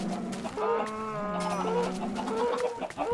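Chickens clucking in the video game Minecraft, a busy run of close, steady squawks and clucks heard alone with no talk over them.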